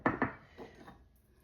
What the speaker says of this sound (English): Now, I'm going to add a few more onions that aren't smushed.